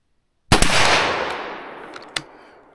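A single sharp .357 Magnum gunshot fired from a revolver barrel cracks loudly and nearby, followed by a long decaying echo, with a faint later click and a second small report.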